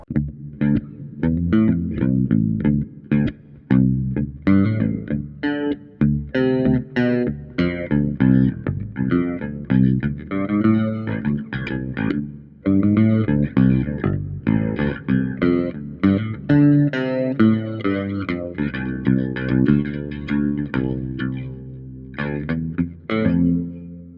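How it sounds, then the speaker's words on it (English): A Castedosa Conchers bass guitar plays a flowing line of plucked notes with a touch of reverb adding space and tail, steady and upfront without speech. "Put a little reverb on there."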